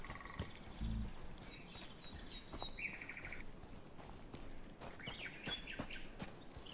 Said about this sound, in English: Why did the bird chatter stuff scared me more than anything else?